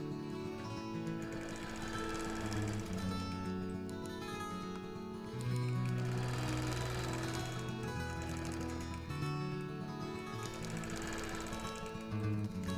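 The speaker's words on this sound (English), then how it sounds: "And I'm just stitching to my chalked line, turning the corner, and then going on to the next one." A free motion quilting machine stitches along a chalked line on a friendship birthday quilt, making a quiet, steady mechanical whir with rapid needle rhythm that shifts slightly as it turns corners.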